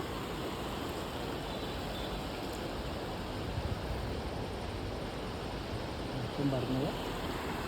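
Steady broadband rush of a flowing river, its current swollen by rain, filling the scene evenly and continuously at moderate loudness with no voices over it.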